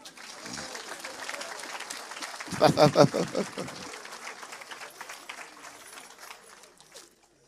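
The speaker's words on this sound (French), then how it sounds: "On acclame le Seigneur." A church congregation applauds and cheers in praise of the Lord, a burst of crowd clapping and voices swelling in the middle, then settling into a lighter continuing patter.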